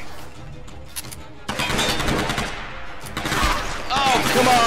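Rapid gunfire from shooting in the video game Tomb Raider, a dense, loud stream of shots that builds after the first second and keeps going to the end under game noise.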